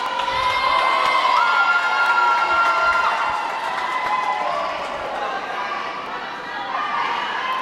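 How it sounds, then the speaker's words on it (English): A netball crowd at a tournament in Tūranga cheers loudly after a goal, a sustained roar of shouting and high-pitched children's whoops that stays loud and slowly eases, with commentators talking over it. "the crowd here is happy. They're going crazy."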